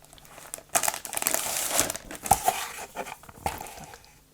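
Paper crinkling and rustling as an instruction booklet is lifted from the box of a Miniart 1/35-style plastic model kit of an 18-ton covered freight wagon, with scattered close handling sounds and no speech.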